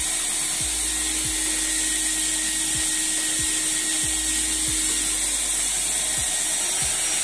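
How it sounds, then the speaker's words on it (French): A shop vacuum roars loud and steady as dust extraction during CNC machining, with a constant whine over broadband noise and a faint cutting bit beneath it. "On constate que l'aspirateur fait plus de bruit que la mèche."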